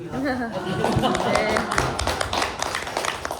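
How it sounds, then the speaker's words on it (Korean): Audience members at a Korean book talk give a round of clapping, uneven individual claps and taps mixed with chatter and a little laughter, moderately close. "박수 한번 쳐주십시오."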